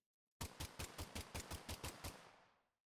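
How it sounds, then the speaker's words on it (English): A rapid burst of about ten gunshots rings out in Kill O Lantern, an evenly spaced loud automatic volley that stops abruptly and fades into a short tail. "A gunshot?"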